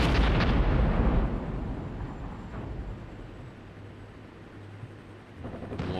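Mortar fire in the Cold War strategy game Armored Brigade 2, with a loud close explosion that rumbles out and decays over several seconds, then a fresh blast at the end. No talking.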